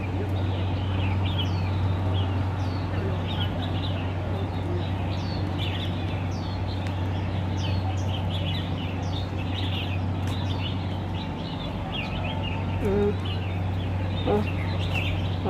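Many birds chirp and call in a garden setting, a dense layer of overlapping tweets and clucks over a steady low hum, continuing throughout without talk.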